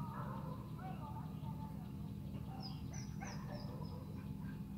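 Two dogs yip and whimper in short, faint bursts at a distance, half-buried under a low, constant rumble of background noise outdoors.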